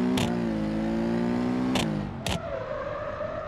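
A car engine in BeamNG.drive revs and hums steadily, pitch shifting as gears change, with a few sharp clicks and a drop in engine tone near the end.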